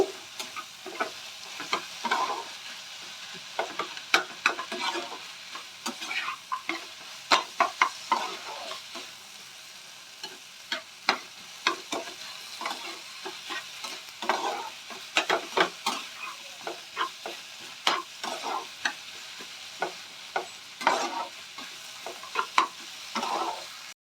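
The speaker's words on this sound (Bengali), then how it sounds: "এবার দিয়ে আমি পুরো মশলাটা আমি ভালো করে ফ্রাই করে নেব" A spice paste with turmeric powder fries in a pan for an aloo matar paneer dish, a continuous sizzle broken by frequent scraping strokes of a spatula, close up, with no voices.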